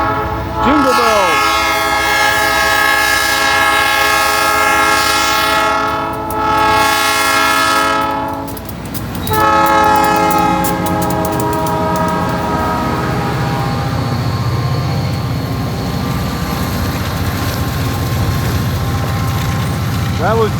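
Locomotive horns on a heavy freight train climbing a hill play the melody of Jingle Bells in loud sustained chordal blasts with brief pauses, then the rumble of the passing train takes over.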